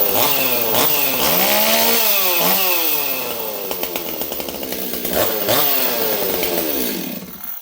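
A STIHL 026 chainsaw runs close and loud with a freshly tuned carburetor, revving up and down in repeated swells between throttle blips.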